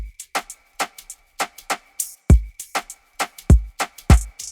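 Afrobeats drum pattern programmed in Studio One 6, with hi-hats, shakers, a snare and a wooden clave doubling the snare pattern, playing a crisp syncopated loop of sharp repeated hits with occasional deeper kick thumps.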